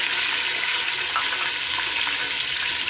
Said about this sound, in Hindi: प्याज डाल दें